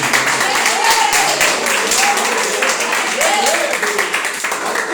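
A church congregation claps during a worship service, a steady, dense patter filling the space, with voices and sung or shouted phrases rising over the clapping throughout.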